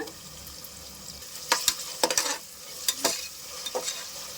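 Onions, ginger and garlic sauté in a pan for a Tamil kothu kari curry, a soft steady sizzle broken by several sharp scraping stirs of a spoon against the pan, with no talking.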